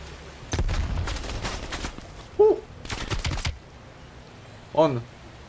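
Sharp bursts of gunfire crackle in quick clusters in the video game Call of Duty: Black Ops Cold War, separated by brief pauses, with short voice-like sounds mixed in.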